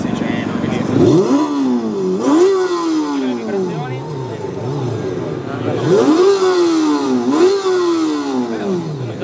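A 600cc sport motorcycle engine at a motor show revs in rising sweeps, climbing and falling repeatedly, loud and close with a steady background hum.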